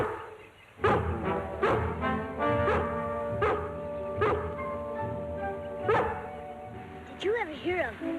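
A dog barks repeatedly from the direction of a lake in a 1960 television drama, sharp regular woofs mixed with people talking.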